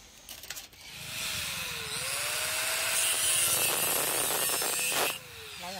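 Steady rasping hand-saw strokes grinding through a metal pipe being cut into table legs, continuous and fairly loud, with a faint whine running alongside and a few clanks near the start.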